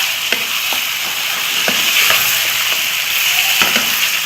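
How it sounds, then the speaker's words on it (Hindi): Meat sizzles and fries in oil with ginger, garlic and almond paste, a loud, continuous crackling hiss with occasional sharp pops and faint stirring scrapes, close up and without talk. "गोश्त को फ्राई करना है।"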